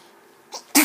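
A baby gives a small sneeze, a quick intake then a sharp burst at the end, close and alone in a quiet room.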